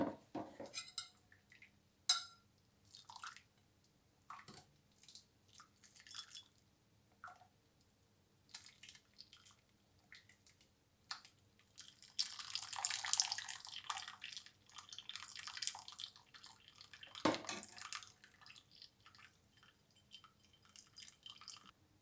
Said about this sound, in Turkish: Meyve suyumuzu daha sonra da bir süzgeçten geçirelim.